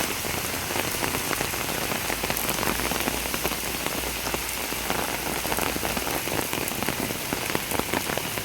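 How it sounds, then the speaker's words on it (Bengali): Steady rain falls in Berhampur, Murshidabad, a dense, even patter of drops on surfaces that stays constant and close throughout, with no voices. "বহরমপুরের বৃষ্টি।"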